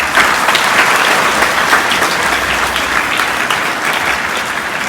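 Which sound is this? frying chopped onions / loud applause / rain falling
loud applause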